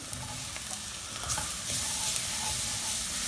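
Bell peppers and chili peppers sweating in a hot pan, a continuous close sizzle with light stirring scrapes throughout, steady and fairly loud, no voices.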